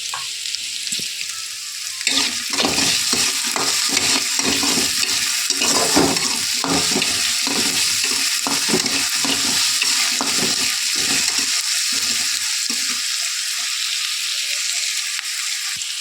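Food sizzles steadily in a hot pan after salt is added, with repeated scraping and stirring strokes from about two seconds on, continuous frying hiss throughout, no talking.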